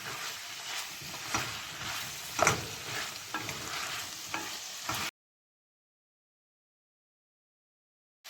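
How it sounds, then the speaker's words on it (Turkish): Meat stew with tomato paste is stirred in a hot pan: continuous frying sizzle with scraping strokes of a utensil, close and fairly loud, ending abruptly in silence after about five seconds. "salçamızı ekliyoruz. şöyle bir karıştıracağız."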